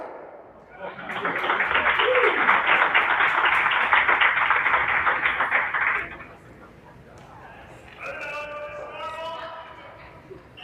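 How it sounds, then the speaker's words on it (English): Crowd applause at a men's semifinal curling match, a dense sustained clapping wash lasting several seconds before fading into arena murmur, with a brief whistle-like tone afterward. "Crowd reacted to a shot going on in the men's semifinal on sheet C."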